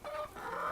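A flock of chickens clucks nearby, with short overlapping calls continuing steadily over the brief moment, with no voices.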